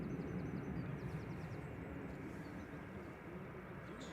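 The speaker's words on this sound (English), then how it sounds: "This is a Max 8 200 about to roll." A Ryanair Boeing 737 Max 8-200 jet airliner begins its takeoff roll at Manchester Airport, a faint, distant, steady engine rumble that eases slightly toward the end, with brief bird chirps above it.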